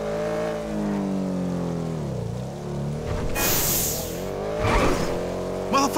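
A 140-cubic-inch motorcycle in GTA V holds a steady, droning engine note that dips and then surges in louder revs toward the end, with no one talking.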